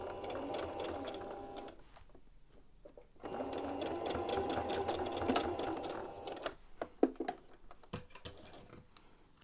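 A sewing machine stitches a band onto a t-shirt in two steady motor runs, then pauses and gives a few short bursts and clicks, close by with no speech.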